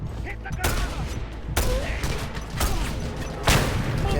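Repeated loud revolver gunshots ring out in a shooting video game, several heavy blasts spaced about a second apart with mechanical clatter between them.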